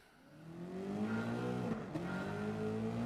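Race car engine from the video game Gran Turismo 7, a loud steady drone that climbs in pitch as it accelerates, with a brief dip and recovery partway through, heard alone without talk.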